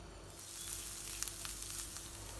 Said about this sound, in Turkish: 1 adet doğradığımız soğanları tavaya alıyoruz ve iyice kavuruyoruz